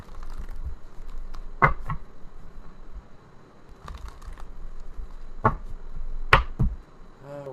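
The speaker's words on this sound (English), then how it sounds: "Now, let's give this another shuffle or two." Tarot cards being shuffled by hand, heard as short papery riffles and snaps in a few bursts with quiet pauses between, close and fairly soft.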